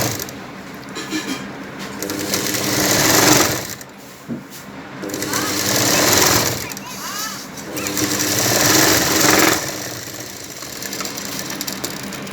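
A sewing machine runs in short stitching bursts while a blouse belt is sewn, its steady motor whir mixed with close-by talking and what may be cooing pigeons in the background.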